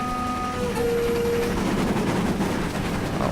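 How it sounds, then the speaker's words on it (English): A Grange steam locomotive hauling a fish train in the video game Train Simulator 2017 passes with a steady rumble of wheels and carriages. A sustained whistle tone sounds near the start, and the roar stays constant and fairly close throughout. "Oh, there it goes, with a fish train."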